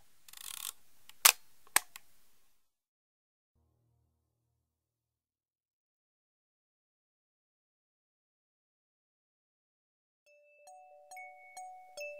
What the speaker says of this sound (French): L'appareil était là, lévitant dans les airs, le prenant en photo.